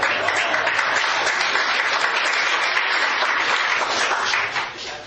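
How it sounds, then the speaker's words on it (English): Sustained applause from an audience at a cycling talk event fills the room, dense and steady for several seconds before tapering off at the end. "Let's give her a round of applause."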